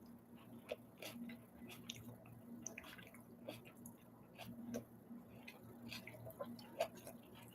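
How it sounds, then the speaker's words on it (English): A person chews food close to the microphone, with faint, quiet wet clicks and soft bites repeating irregularly over a low background hum. "I hope I'm not chewing too loud."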